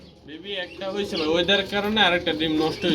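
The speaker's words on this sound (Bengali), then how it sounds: "খুবই চমৎকার এক জোড়া কবুতর রয়েছে" Low, rolling coos from a pair of Sirazi pigeons sound up close at a pigeon farm, repeating over a few seconds as a person speaks at the same time.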